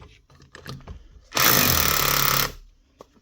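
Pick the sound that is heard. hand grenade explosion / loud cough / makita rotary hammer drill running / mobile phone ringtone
makita rotary hammer drill running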